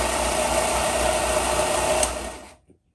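A belt and disc sander runs with a loud, steady motor whine and airy roar, close up, for about two seconds before winding down to silence.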